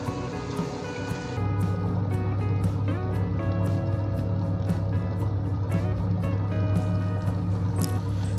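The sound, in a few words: wet grinder grinding rice and urad dal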